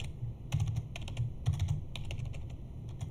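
Typing on a computer keyboard during desktop setup, with steady bursts of quick, close key clicks in small clusters over a low background hum and no speech.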